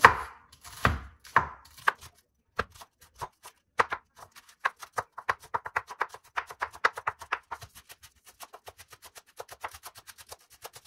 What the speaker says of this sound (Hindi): चलिए जी अभी यहाँ पे प्याज काट लेंगे।